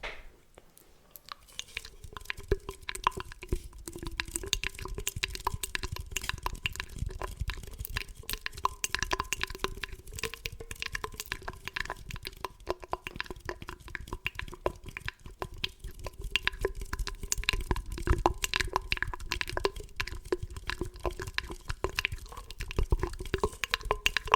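Close, wet ASMR mouth sounds with crackly clicks and smacks continue steadily over a faint hum, intimate and quiet.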